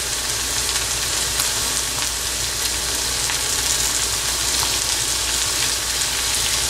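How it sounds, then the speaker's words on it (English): Chopped green capsicum sizzles in a frying pan for Brinjal Manchurian, a loud, steady, unbroken hiss of hot oil with no pauses or talk. "Now I am going to add our chopped green pepper,"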